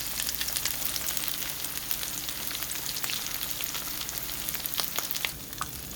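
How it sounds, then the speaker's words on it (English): Ground lamb rice balls fry together in a pan, a steady close sizzle and crackle with scattered pops and light stirring scrapes running throughout. "We got all 3, 6, 9 of them in the pan frying together."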